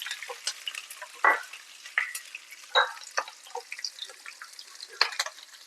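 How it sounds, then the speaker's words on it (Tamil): Cumin and sliced garlic sautéing in a pan for a country chicken fry, a soft, fairly quiet crackle of frying with scattered sharper pops and stirring scrapes. "இது கூடவே நீல வாக்குல கட் பண்ண பூண்டு அதையும் சேர்த்து நல்லா வதக்கிக்கலாம்."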